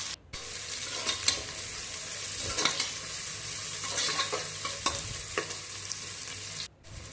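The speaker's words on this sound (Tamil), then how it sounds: "வெங்காயம் வந்து கட் பண்ணி வச்சுருக்கேன், அதையும் வந்து உள்ளே சேர்த்துக்கோங்க. சேர்த்துட்டு நல்லா ஃப்ரை பண்ணுங்கள்" Onions fry in oil in a pan while being stirred for white biryani. A steady sizzle runs throughout, broken by scraping strokes of the spoon, and no one speaks.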